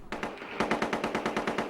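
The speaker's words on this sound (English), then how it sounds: "There was more gunfire around Basra today" Machine gun fire near Basra: a rapid run of about ten sharp, evenly spaced shots, close and loud, with no voices.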